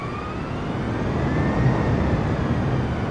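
Boeing 747 airliner engines in Microsoft Flight Simulator 2020, a continuous broad jet roar with a faint tonal whine drifting across it, steady and close, no voices.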